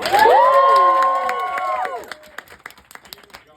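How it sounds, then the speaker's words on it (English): An audience at a live show lets out a loud, sustained cheer, then breaks into scattered, fading claps and a few shouts. "One more round of applause for Zach, our wonderful host tonight."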